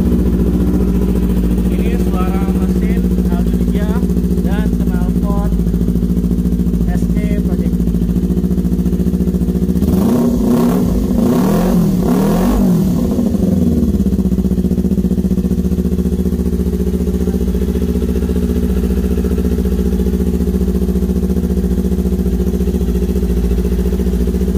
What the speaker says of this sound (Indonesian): Oke, kita dengerin suara mesinnya.